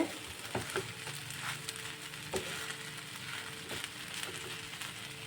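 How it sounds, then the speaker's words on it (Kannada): Sabudana khichdi fries gently in a pan over a low flame: a soft, continuous sizzle broken by scattered clicks and scrapes of stirring, close by and quiet, with no voices. "ಲೋ ಫ್ಲೇಮಲ್ಲಿ ಇಟ್ಕೊಂಡೆ ಚೆನ್ನಾಗಿ ಈ ಥರ ಫ್ರೈ ಮಾಡ್ಕೋಬೇಕು."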